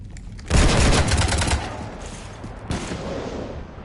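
Loud bursts of automatic gunfire strafe a ship in the Mass Effect video game, a dense volley followed by a second, shorter burst, with no speech.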